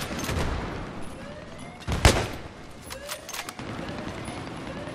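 Gunfire in Battlefield 3 during an online match, with one sharp loud shot in the middle among scattered quieter shots and a steady battlefield din.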